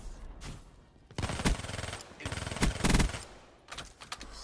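Vesper submachine gun in Black Ops 3 firing rapid bursts, two long loud stretches of fast rattling shots separated by short pauses, with no talk.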